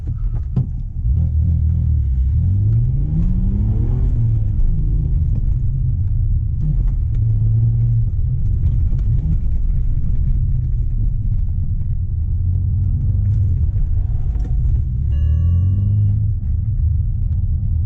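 High-mileage 2005 BMW 330i E90 with manual gearbox driving on the road, the engine rumbling and rising in pitch as it accelerates through gears, a steady loud drone heard from inside the car.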